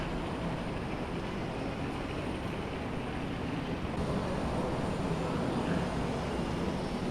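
Train rolling into an underground airport station at Hannover Airport, Germany, in Microsoft Flight Simulator 2020, a steady broadband rumble and whoosh holding at even loudness for several seconds, with no talking.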